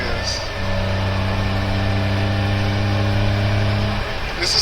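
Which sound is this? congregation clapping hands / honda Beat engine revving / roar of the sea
honda Beat engine revving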